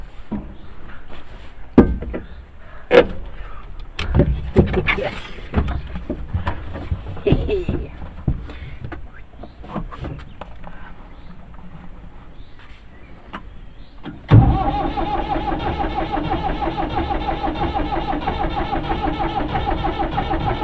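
An old engine, fitted with a guard on its exhaust pipe, catches abruptly after a stretch of clattering handling noises and then runs at a steady, close, rough idle for several seconds as it warms up.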